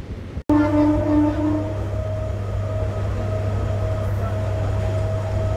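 A MEMU express train runs at speed, a steady loud rumble with humming motor tones inside the coach, broken by a sharp cut near the start.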